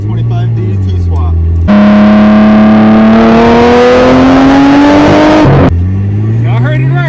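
A 1992 Nissan Laurel C33 with an RB25DET engine swap revs hard from inside the cabin, the engine note climbing loud and steady for several seconds before dropping back to idle.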